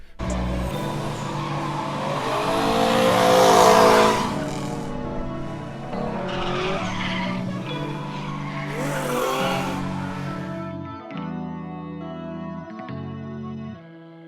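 A drift car at a drift team event skids with long, loud tire squeal and a revving engine, the screech peaking early, easing, then swelling again before the engine note drops near the end.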